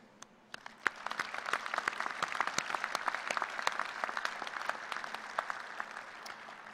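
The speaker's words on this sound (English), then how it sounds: "I'll ask you to join me in another round of applause for those who came here to celebrate with you" Applause from a commencement crowd at K-State's fall engineering ceremony begins with a few scattered claps and swells into steady, sustained clapping across a large hall, with no talk over it.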